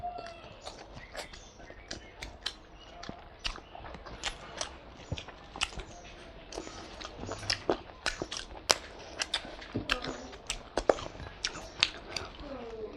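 Close, crunchy chewing and biting of mutton or chicken biryani, with irregular sharp bites and mouth sounds over a steady low background, no talking.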